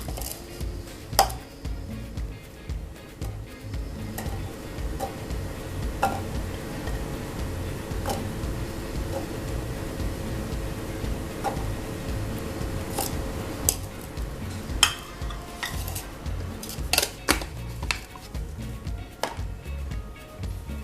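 Garlic crushed in a manual garlic chopper makes a soft, steady run of quick clicks and crunches close up, with a few sharper knocks scattered through.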